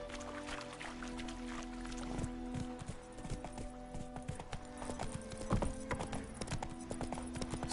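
Roach, the horse in the video game The Witcher 3, clip-clops along at a steady walk, hooves ringing out clearly in a regular rhythm over a faint low ambient tone.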